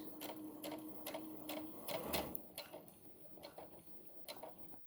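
A sewing machine back stitching near the end of a seam on pajama shorts, giving a quick run of soft mechanical ticks with a brief stop and reverse, close and moderately quiet.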